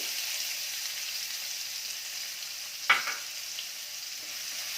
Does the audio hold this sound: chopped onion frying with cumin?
yes